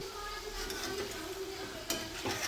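Chicken pieces frying in oil, a quiet steady sizzle with a couple of brief clinks, heard close with no talk.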